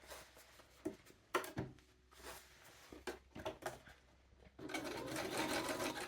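A sewing machine topstitches a diamond hem on trousers, stitching in short stop-start bursts at first, then running steadily for a longer stretch, close and fairly quiet.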